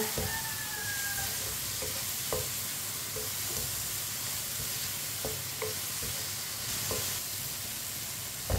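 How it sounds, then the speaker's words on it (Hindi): Spices with a little turmeric cooking in a pan for masala bhindi make a continuous broadband sizzle, punctuated by a few sharp clicks and scrapes of stirring, close and without speech. "मसालों को मिक्स कर लेंगे। आधा मिनट के लिए पका लेंगे मसालों को।"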